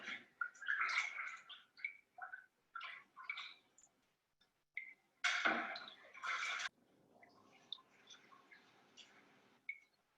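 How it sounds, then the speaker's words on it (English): Water drips and trickles from a papermaking mold as pulp is lifted out of a vat, irregular small splashes and patters close by, with a brief louder splash burst midway and quieter scattered drips after. "You can hear the water dripping."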